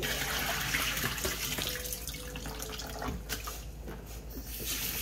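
Seaweed being washed for chè sâm bổ lượng under steadily running tap water, a continuous close splashing and trickling with occasional sloshing of handled strands, and no voices.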